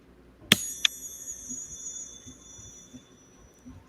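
A handheld star wand chime rung twice, a bright metallic strike followed by a second lighter one, each leaving a clear ringing tone that fades over a few seconds, heard alone against a quiet room.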